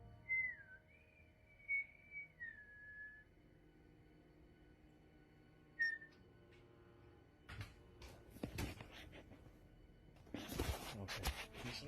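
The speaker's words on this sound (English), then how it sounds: "he places the camera on a table and whistles once again" A man whistles inside a supposedly haunted house, giving a long wavering whistled phrase and then one short note. Scattered knocks and clattering bumps follow near the end.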